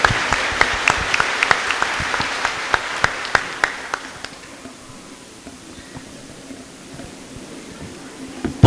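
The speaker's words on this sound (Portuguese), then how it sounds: "Uma salva de palmas à palavra proclamada." A Catholic congregation at a country-style Mass applauds after the Gospel reading. Scattered sharp claps come close at first, then the applause thins and fades away into room hum.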